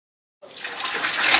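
Water gushes from a household tap at a customer's home during a water-company meter check, starting abruptly after a short silence and building into a loud, steady hiss of running water.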